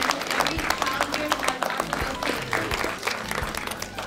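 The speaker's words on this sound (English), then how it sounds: "Let's give all the kids, not just the winners, but all the participants, a round of applause." Crowd applause for children at an elementary student art show, a busy patter of clapping over low background rumble and some murmuring voices, moderately distant and steady throughout.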